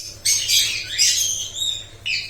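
Lovebirds in a breeding colony let out several loud, shrill squawks close by, in bursts with short gaps between.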